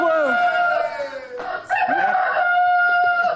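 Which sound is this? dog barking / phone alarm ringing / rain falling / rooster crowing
rooster crowing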